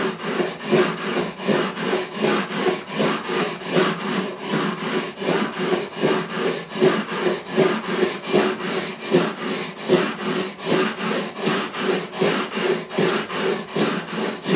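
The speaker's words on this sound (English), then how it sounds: "my Crimson Guitars radius beam or leveling beam, 400 grit on the top, 240 on the bottom." A Crimson Guitars radius leveling beam with 400 and 240 grit paper sands across the frets of a Simon and Patrick Cedar 6 acoustic guitar, a steady back-and-forth rasp repeating about three times per second, close and loud with no talking.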